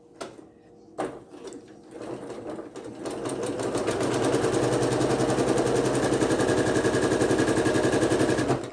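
A domestic sewing machine stitches a quilt block, starting with a few halting stitches before settling into a fast, even, continuous mechanical whir that stays loud and close.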